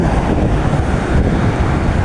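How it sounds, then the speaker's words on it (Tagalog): Strong wind by the sea buffets the microphone with a constant low roar, with surf-like rumble underneath and no voices. "Medyo may hangin siya."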